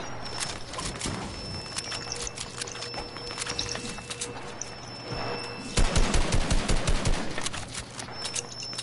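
Rapid gunfire in a Fortnite match, a dense stream of sharp cracks and bursts, heavier and louder thumping shots in the final few seconds, close and alone with no talking.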